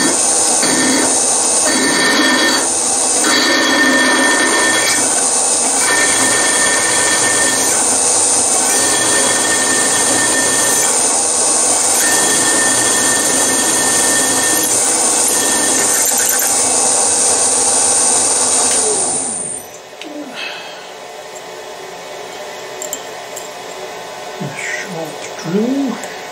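An 8mm drill bit bores a pilot hole through a mill fixture plate, giving a loud, steady high-pitched whine from the machine for about twenty seconds before it stops and only faint clinks and handling noises remain.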